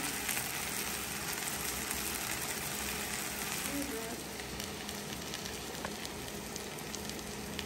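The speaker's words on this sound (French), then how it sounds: "C'est bien grillé la viande." Pork meat sears in a hot pan with a steady, dense sizzle and crackle that holds at a moderate, even level throughout.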